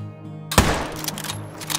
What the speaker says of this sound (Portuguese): Vamos dar-lhe um tiro ali e vamos acompanhar.